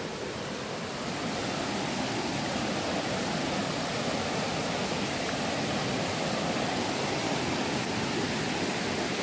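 A swollen stream called Khatli Kondi, running high after a day or two of rain, rushes in a steady, loud, broadband roar with no pauses and no voices.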